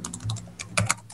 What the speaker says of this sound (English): let's say you are just typing here AWS free account